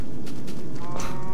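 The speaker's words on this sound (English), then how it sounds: "oh, there's some cows over here" A loud, close Minecraft cow lets out one drawn-out low moo that fills the short moment on its own.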